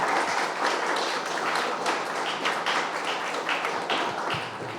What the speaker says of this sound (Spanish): Cerramos con un fuerte aplauso a estas participaciones